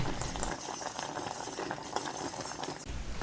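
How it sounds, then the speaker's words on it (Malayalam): A thick banana sweet mixture with powdered beaten rice bubbles in a pan, a dense steady simmering crackle with soft stirring scrapes, close and fairly quiet, no voices. "ഇനി ഇത് നന്നായിട്ടൊന്ന് തിളച്ച് വരട്ടെ"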